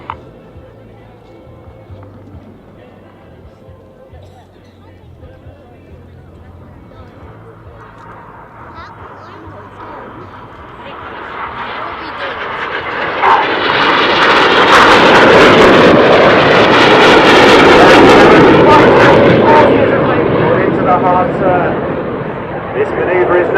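A Synchro pair of aerobatic display jets trailing smoke approaches from opposite sides, the roar building from distant to loud and close as they cross overhead, with a commentator talking over the noise.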